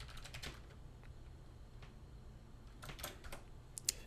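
Faint keystrokes on a computer keyboard as a Linux command is typed, soft scattered taps in a couple of small clusters over a quiet background hum.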